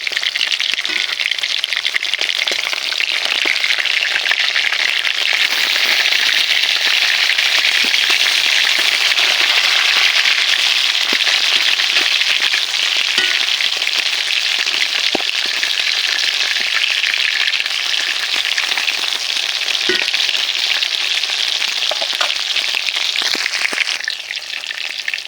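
Fish fry in hot oil in a pan, giving a loud, close, steady sizzle with crackling pops that holds for the whole stretch and eases slightly at the end.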